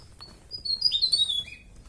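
A bird sings in a mountain forest, high chirping whistles with a short rising and falling phrase, clear and fairly close over faint background rustle.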